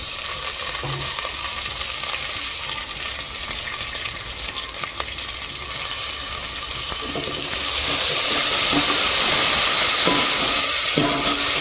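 Mint, coriander, ginger-garlic paste and onion fry and get stirred in a pan for a spicy mutton curry, a steady close sizzle running throughout with scraping stir strokes that grow louder and brighter near the end.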